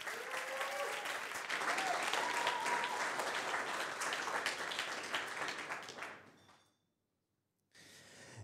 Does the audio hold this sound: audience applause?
yes